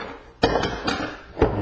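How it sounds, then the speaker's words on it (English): Mossberg 500 shotgun bolt pushed out the front of the receiver during field stripping, heard as a few sharp metallic clacks and knocks, close and fairly loud, with quiet gaps between them. "We can push the bolt out the front of the receiver."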